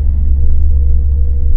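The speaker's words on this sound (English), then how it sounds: "You got some weird noises coming from your car?" An eighth-generation Honda Civic Type S (FN1) with an i-Shift gearbox rumbles steadily in first gear, a loud, constant low drone with vibration and no clear revving.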